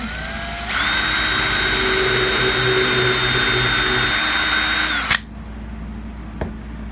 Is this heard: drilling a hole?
yes